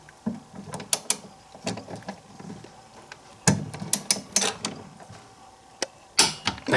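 Acorn nuts are tightened on a DeLorean shock tower brace with a ratcheting tool, giving bursts of quick mechanical clicks and ratchet turns separated by short pauses, close and clear with no talk.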